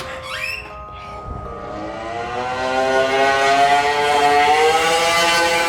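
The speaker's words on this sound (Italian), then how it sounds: "C'è qualcuno che se ne sta andando con un motorino." Scooter heard driving away outside a house, its engine note rising and droning steadily as it moves off, loud and alone after a brief high squeal at the start.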